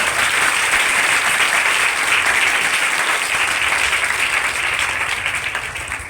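Strong, sustained audience applause at a speech on saving and educating daughters, a loud continuous wash of clapping that holds steady for six seconds and eases slightly at the end.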